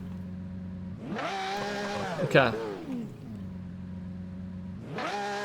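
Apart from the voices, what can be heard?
car engine revving in a driving video game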